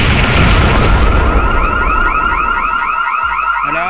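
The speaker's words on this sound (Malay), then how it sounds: "Alah, meletup kereta, bukan meletup rumah." A loud, continuous blast of noise rolls on, overlaid with a wavering alarm-like tone that gradually fades as the roar settles.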